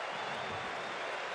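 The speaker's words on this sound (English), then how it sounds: "Crowd appreciative of the effort he's put forth tonight" Crowd applause at a 2006 Nevada Wolfpack versus Hawaii Warriors college football game, a steady, broad wash of clapping filling the stadium after a hard running play.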